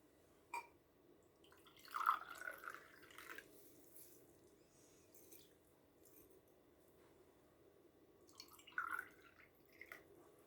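Jalapeño pickle brine poured into small jars makes faint, quiet trickling and dripping splashes in a few separate bursts, with near-silence between them, recorded close.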